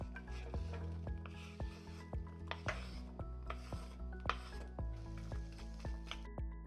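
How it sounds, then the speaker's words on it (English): Apple pieces in melted butter in a pan are stirred repeatedly with a utensil, giving steady rhythmic scrapes and taps over a soft sizzle, heard close up. "Give those a good stir, breaking up any pieces that are sticking together and making sure that they are all well coated in that butter."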